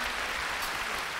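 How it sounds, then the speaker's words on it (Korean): Studio audience applause at a televised Korean singing contest, a dense, continuous wash of many clapping hands, close and loud throughout the short burst. "첫 번째 팀에게 박수 주시 바랍니다"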